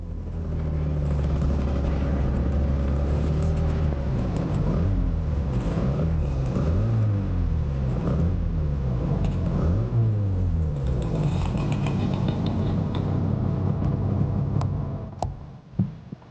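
Two-stroke motorcycles, a Yamaha RD250 YPVS and a Suzuki GT200 X5, riding up the Black Mountain Road in Wales. A steady loud engine drone rises and falls through the gears and fades near the end.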